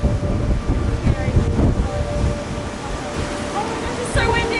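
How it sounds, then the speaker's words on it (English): Strong wind buffets and rumbles loudly close by, gusting unevenly while people talk over it. "it's so windy"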